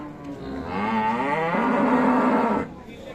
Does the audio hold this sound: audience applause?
no